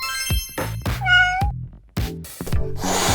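A cartoon cat meows several times in quick succession, loud and close, with short high-pitched cries and a drawn-out wavering meow among them.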